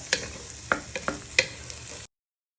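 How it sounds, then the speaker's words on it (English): Garlic, red onion and pepper frying in a pan with a steady sizzle, broken by several sharp clinks and scrapes of a utensil stirring. "So first we're just frying our garlic, red onion and pepper."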